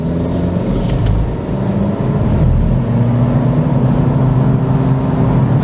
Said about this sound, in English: Now let's try that again from a stop here up to highway speed.